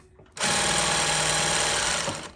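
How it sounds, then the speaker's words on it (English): A sewing machine stitches horsehair braid onto a dress train in a straight line, a close, loud, rapid whirring run starting abruptly and easing off after about two seconds. "I'm just going to sew this in a straight line all the way around."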